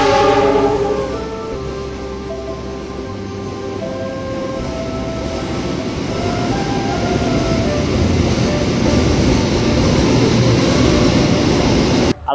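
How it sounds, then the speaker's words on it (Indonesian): A freight train rolls steadily past a passenger train travelling from Jakarta to Tegal, a loud continuous rumble and clatter with tonal squeal and hum that builds over about twelve seconds, with no talk. "Oh, kereta barang."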